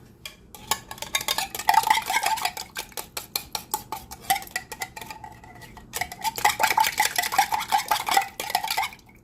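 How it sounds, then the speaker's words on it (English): Clinking and clattering as a can is rinsed out with water, with bursts of running water and irregular knocks and rattles in two busy stretches, fairly close. "I'm just going to rinse out the can with a little bit of water"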